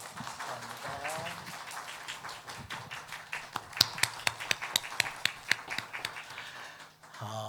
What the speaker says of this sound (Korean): 박수해 주시길 바랍니다